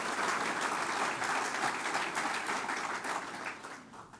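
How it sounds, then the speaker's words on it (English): Audience applause at a college of business naming ceremony, a dense, steady burst of many hands clapping that holds strong for several seconds before starting to taper off at the end. "I want to give a big round of applause to Brian and his leadership team"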